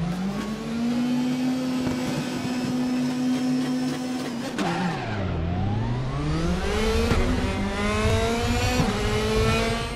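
Race car engines whine and rev in a Raceroom race start at the Nürburgring, one close engine holding a steady drone before dropping pitch and climbing again through the gears, with other cars droning around it.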